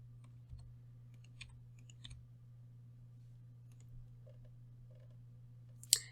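Scattered keystrokes on a computer keyboard, a few faint, sparse clicks against a steady low hum, ending with a slightly louder tap.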